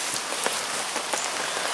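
Steady rain falling at a lakeside carp fishing spot, a dense continuous hiss with scattered sharper drops pattering on a nearby surface.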